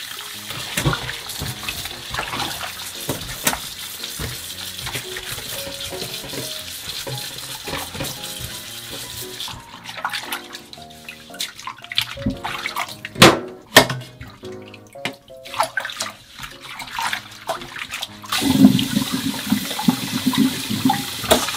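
Tap water runs steadily over a radish being scrubbed clean of soil for kimchi, with splashing, dripping and occasional clatter of handling in a home kitchen, fairly close and continuous for the whole stretch.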